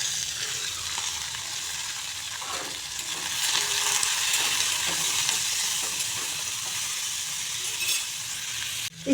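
Cucumbers with salt and turmeric sizzling loudly in a pan, a bright continuous frying hiss with stirring scrapes, close and sustained throughout with no talk.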